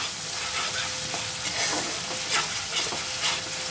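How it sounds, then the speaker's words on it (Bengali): Spices and chicken stir-fried for Bengali kosha mangsho: a dense, close sizzle of frying runs throughout, broken by repeated scraping strokes of a spatula stirring in the pan, with no talking. "এটা এখন খুব ভালো করে কষিয়ে নিই।"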